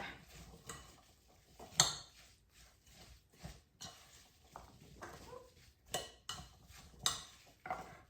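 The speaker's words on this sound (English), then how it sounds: "I'm gonna add in some of these chia seeds, and then I am just going to mix it up." Chia seeds are stirred into a no-bake snack mixture in a bowl, with soft, irregular scraping and clinking of a utensil, quiet and close, at an uneven rhythm.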